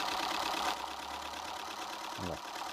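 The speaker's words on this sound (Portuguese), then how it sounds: "nós já podemos funcionar esse motor quase a velocidade dos motores de alta velocidade normais" A Keppe electric motor runs steadily as a continuous close hum and whir, with a brief lower rumble near the end, and no talking over it.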